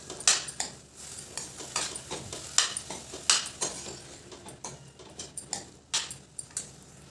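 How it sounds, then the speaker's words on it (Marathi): Moth beans (matki) being sautéed with spice masala in a pan, with a spoon clinking and scraping against the metal in irregular taps and stirs, fairly close, no talking. "अगदी दोन ते तीन मिनटं व्यवस्थित परतून घ्यायची मसाले मटकीमध्ये"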